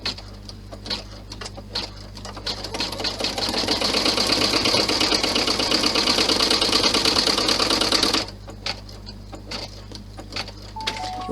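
A sewing machine stitches a fabric bow down onto a purse, running in a steady, close, continuous whir for about four seconds, then stopping, with light clicks of handling before and after.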